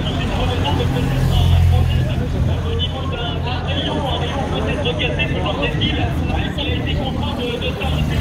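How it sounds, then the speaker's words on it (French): Team cars roll past behind the cyclists at the Tour de Vendée road race. There is a steady, loud motor drone of road vehicles under continuous commentary and crowd talk. "Et les voitures des équipes qui sont derrière."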